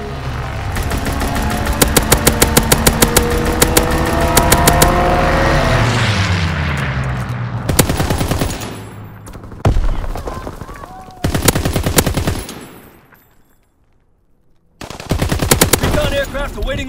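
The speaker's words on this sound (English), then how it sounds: "Strafing run inbound." Aircraft strafing run in Call of Duty: WWII, loud sustained machine-gun bursts with booming impacts, rapid rattling volleys broken by short gaps and a brief near-silent lull before firing resumes.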